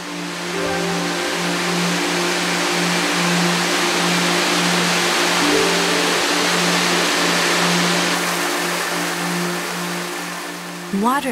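Water plunges steadily down the Shiraito waterfall, which drops over 100,000 tonnes a day. It makes a constant, dense, loud roar with a low steady hum underneath that runs unbroken throughout.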